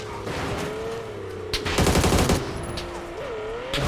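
Automatic gunfire in the battle-royale game PUBG rattles out in a rapid burst midway through, with a couple of isolated shots around it over a steady background hum.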